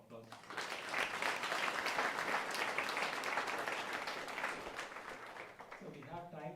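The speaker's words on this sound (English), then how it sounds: "can we give another round of applause?" An audience at a talk at Portland Hindu Temple breaks into sustained, full clapping that swells quickly, holds for several seconds and then thins out as a voice begins.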